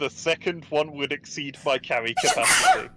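A single sharp sneeze bursts out right after a person finishes speaking at a tabletop role-playing session, close and loud.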